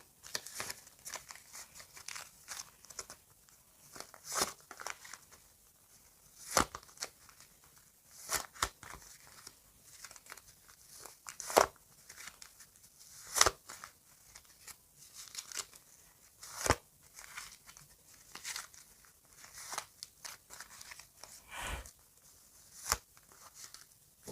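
Paper crinkles and rustles in irregular bursts, with sharp tearing crackles now and then as packets are handled and pulled open close by.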